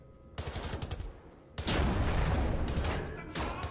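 Gunfire in Wolfenstein: The New Order: a rapid automatic burst, then a brief lull, then a long, loud, sustained volley of heavy shots that fades and flares up again near the end, with no talking.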